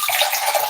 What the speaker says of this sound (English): I'm going to add my water. I'm using filtered water.